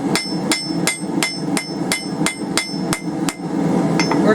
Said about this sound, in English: Using our cross peen here, we're going to start from one side here, and we're going to start spreading out our petals here.